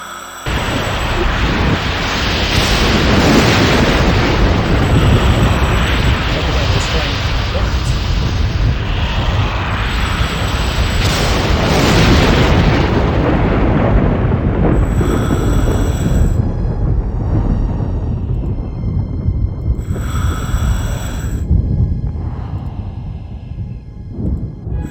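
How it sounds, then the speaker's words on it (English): A huge in-game antimatter bomb detonating inside a box canyon, a loud sustained roaring rumble that fills the whole clip, swelling and surging with bursts of crackling debris before slowly easing off. "The antimatter bomb detonates inside the box canyon."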